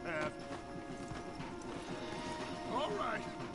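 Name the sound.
horses in video game Red Dead Redemption 2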